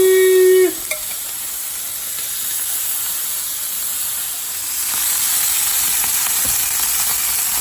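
Octopus grilling on a very hot grill pan, a loud steady hiss of sizzling that follows a brief clunk at the start and swells slightly toward the end.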